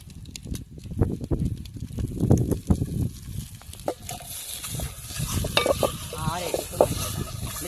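Carrots frying in a little oil, a close crackling sizzle with irregular stirring clatter and scraping that swells and fades over several seconds, with faint outdoor background.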